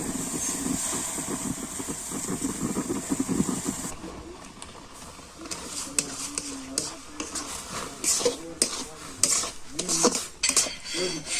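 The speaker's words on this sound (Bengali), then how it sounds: "সুজিটা অনবরত নেড়েছে" Semolina is stirred continuously in a pot of boiling salted water to form a dough for semolina pakoras, with repeated scraping and clinking of a utensil against the pot, close and irregular.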